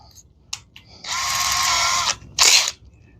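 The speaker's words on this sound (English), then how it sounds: "and we'll finish drilling that hole" Power drill boring a hole with a 1/4-inch bit while installing a DDM Works coil cover on a Polaris Slingshot, a loud high whine for about a second followed by a brief second burst, near and alone.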